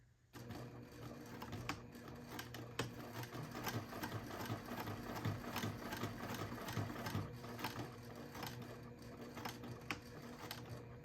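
Sewing machine stitches a fabric strip along a marked line for a wristlet, a steady close mechanical whir with rapid needle ticking that runs almost without pause.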